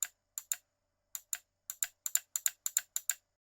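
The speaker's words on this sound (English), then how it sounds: "And when you push, very satisfying click." A GC1 trigger is pushed onto its switch again and again, giving sharp, crisp clicks in quick irregular bursts, close and clean with no talk.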